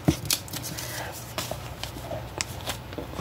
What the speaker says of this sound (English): And then cut it like so.